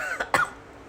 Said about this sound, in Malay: Oh, batuk kau, jangan main-main.